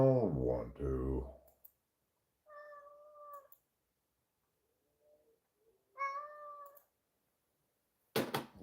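A cat meows twice, clear and fairly close, with a pause between, after some brief talking at the start and a click near the end.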